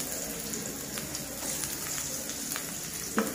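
Chopped onion and garlic go together into hot oil for a rohu fish dopeyaza, giving a soft, steady sizzle and crackle with a few sharper pops, fairly faint and with no one talking.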